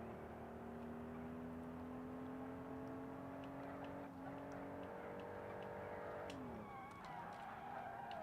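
A lightly damaged car driven around a track in the Automation car-building game, its engine droning steadily at speed with a shifting pitch and a brief drop near the end, no voices.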